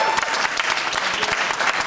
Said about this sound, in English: Give them all a nice round of applause.